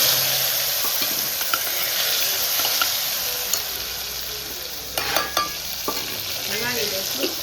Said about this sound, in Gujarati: તેલ આવી ગયું છે તો આપણે એમાં નાખી દઈશું લસણ, લીમડો અને થોડી હળદર